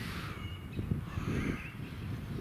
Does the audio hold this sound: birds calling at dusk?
yes